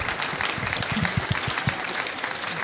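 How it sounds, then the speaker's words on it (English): An audience at a COP27 climate action event gives a round of applause, a close, dense patter of clapping that carries steadily from start to finish. "So a round of applause for them."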